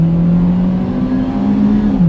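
Honda car engine revving hard under full acceleration, a loud, steady droning note that climbs slowly in pitch, then drops as the gear shifts near the end, heard from inside the car.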